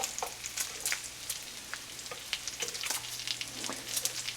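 Bacon sizzles in a frying pan, a continuous close crackle with dense sharp pops and spatters, no speech over it.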